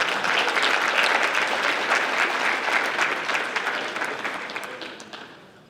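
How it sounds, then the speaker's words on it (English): A crowd at a high school basketball awards ceremony breaks into loud, sustained applause for the Kindred Cherokees, and the clapping tapers off gradually near the end. "Let's clap up for the Kindred Cherokees."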